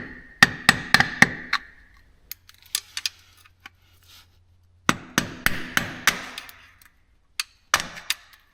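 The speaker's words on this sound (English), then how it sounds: "with this flat blade screwdriver and a hammer, I've been able to free it off" Hammer hitting a flat blade screwdriver to free the sump on an Audi RS4, sharp metallic strikes in two fast bursts of about five blows each, with scattered lighter knocks between them and a final pair of hits.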